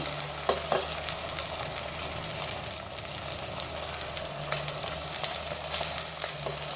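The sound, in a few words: vegetables (potato, corn, carrot) frying in a pan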